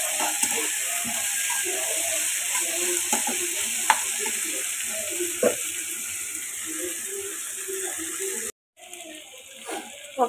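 Large broken prawns and fish fry with leafy greens in a hot pan. A strong, continuous sizzle plays close up, with scraping stir strokes and a short break near the end.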